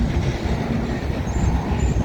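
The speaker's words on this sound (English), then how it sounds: "I wonder why this train is slowing down for." A CN train rolls past at Milepost 2 on the Dundas Subdivision, a loud, continuous rumble of railcars and clattering wheels close by with faint high squeals, no voices.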